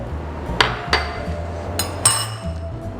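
Spices with a little salt being pounded in a mortar and pestle, a handful of sharp, close knocks at irregular intervals over a low background rumble.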